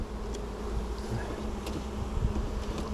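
Buckfast honeybees buzz steadily around an apiary hive, a dense low drone with a few louder passes of individual bees close by, with no talking.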